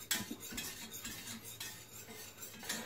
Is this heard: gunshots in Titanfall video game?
no